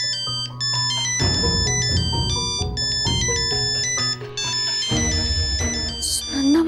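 A mobile phone rings with a bright, melodic ringtone for an incoming call, loud and close, the tune looping steadily before cutting off near the end.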